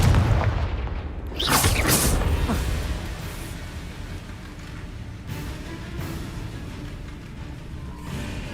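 Deep boom from a Confringo spell explosion in the Hogwarts Legacy video game, a loud burst with a whooshing tail near the start, followed by a lingering rumbling game ambience.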